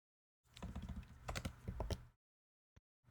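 Quick bursts of computer keyboard typing, a rapid run of close, soft key clicks lasting under two seconds, followed by a single isolated keystroke after a pause.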